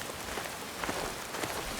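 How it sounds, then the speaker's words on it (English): Steady hiss of rain falling on surfaces in the Skyrim video game, a soft continuous patter with faint scattered drops and no voices. "Rain releases all the best smells."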